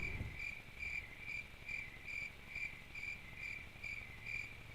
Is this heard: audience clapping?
no